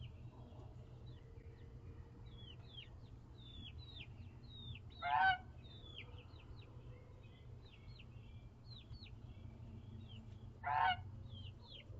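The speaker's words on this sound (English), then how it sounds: "I don't know why the goose is chasing him around." Two short loud goose honks about five seconds apart, over a steady low hum and faint chirping birds in the background.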